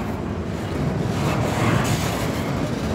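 A long CSX intermodal freight train rolls past in Jacksonville, Florida, a loud steady rumble of wheels and cars with a slight swell in the middle and no talk.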